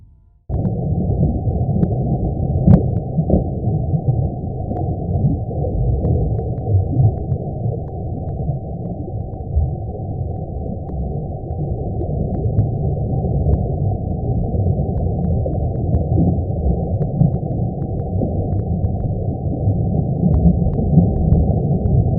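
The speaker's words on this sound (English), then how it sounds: "Here is the sound of our Sun." A sonified rendering of the Sun: a continuous deep, rumbling drone with a dense low texture, steady and unbroken throughout, with no voices.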